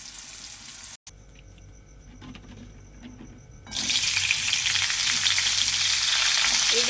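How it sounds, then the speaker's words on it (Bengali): Pumpkin pieces fry in hot oil in a pan, a quiet low crackle at first that jumps to a loud, dense, continuous sizzle for the final three seconds. "কুমড়োটা ভেজে নিই"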